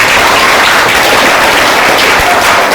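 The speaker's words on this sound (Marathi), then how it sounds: "टाळी वाजवा सर्वांनी" A room of fifth-grade students claps loudly together during a classroom debate, a continuous, close ragged patter of hands lasting a few seconds.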